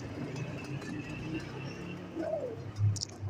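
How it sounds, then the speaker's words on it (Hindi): Pigeons coo softly in a quiet loft: low, muffled throaty calls, with one fuller coo near the end over faint background rustle. "नहीं नहीं, अच्छे कबूतर हैं।"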